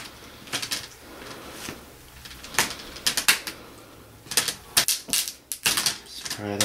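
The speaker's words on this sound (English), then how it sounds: "Just pry that right off," A Gateway laptop screen bezel is pried off by hand. Sharp plastic snaps and clicks come irregularly, some in quick clusters, close and moderately loud.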